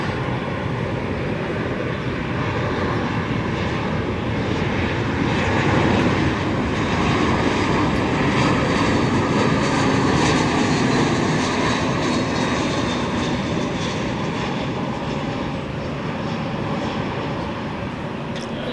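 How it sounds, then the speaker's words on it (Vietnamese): A Scoot low-cost Airbus A320 arriving from Changi lands at Tan Son Nhat airport, its engines a loud, sustained roar that swells slightly mid-landing and eases toward the end, with no voices. "Và chiếc máy bay đã hạ cánh xuống sân bay Tân Sơn Nhất"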